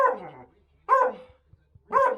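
A dog gives three loud, close barks about a second apart, each a short sharp yap with a brief whiny tail, separated by near silence with faint soft taps.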